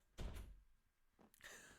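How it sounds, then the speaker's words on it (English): An indoor door closes in a quiet room, with a firm thud, a pause, then a second quieter clunk as it settles shut; no voices. "Close the door."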